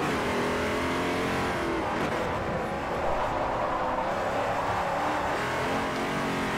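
LMP2 prototype race car engine in Forza Motorsport 4, a continuous loud, high-revving drone with shifting pitch as the car accelerates on track, with faint tire noise and no talk.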